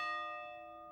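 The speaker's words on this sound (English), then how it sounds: "the sound of a church bell is the voice of God" A single Russian Orthodox church bell rings out with a clear, sustained metallic tone, its ringing overtones slowly fading over one second, heard alone and at moderate distance.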